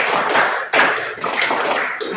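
A classroom of students claps together in quick, fairly loud bursts of rhythmic patting, a one-two-three call-and-response clapping pattern, near and slightly uneven, with no talk over it.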